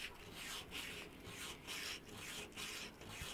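Fine sandpaper, around 320 grit, rubs back and forth on a Ford inline-six engine part in a quiet, steady rasping rhythm, about five strokes with brief pauses, close and soft, without talk.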